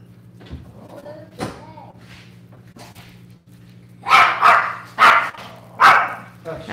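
Big dogs on a farm bark loudly and close by in a burst of four or five barks, with some softer yips and whimpers before it and a steady hum underneath.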